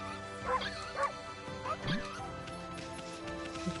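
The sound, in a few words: dog barking in the video game Okami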